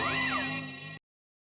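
A cat meows once, a clear close drawn-out mew lasting about a second, then silence, in an Indian television comedy scene.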